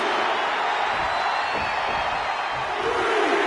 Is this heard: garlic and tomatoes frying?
no